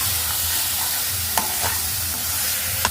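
Carrot halwa with sugar being stirred in a pan, a steady close scraping and bubbling sizzle with a few sharp spoon clinks against the pan.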